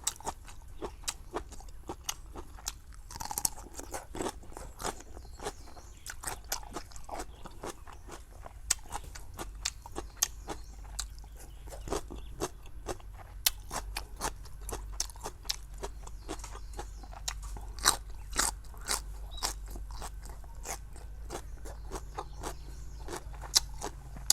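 Crisp, crunchy chewing of pickled shallots eaten with a Thai spicy salad, close and steady bites repeating throughout with no talk.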